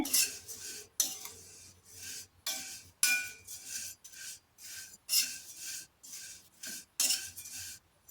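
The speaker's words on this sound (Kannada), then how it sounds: "ಇಲ್ಲಿ ಒಂದು ಕಡಾಯಿಗೆ ಅವಲಕ್ಕಿನ ಸೇರಿಸಿ ಹುರ್ಕೋತಾ ಇದ್ದೀನಿ" Flattened rice (poha) dry-roasting in a kadai and stirred in repeated rasping, scraping sweeps, about one per second, close and clear with short pauses between strokes and no talking.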